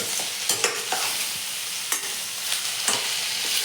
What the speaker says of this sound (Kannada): ಆಲೂಗಡ್ಡೆ ಹಾಕಿ ಮಿಕ್ಸ್ ಮಾಡ್ಕೊಳ್ತಾರೆ ನೋಡ್ರಿ